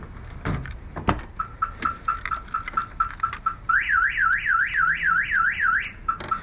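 A Viper alarm on a crashed Mazda Miata cycles through its siren patterns: a run of rapid repeated chirps, then a loud warbling wail that rises and falls, close by, with clicks and rattles around it.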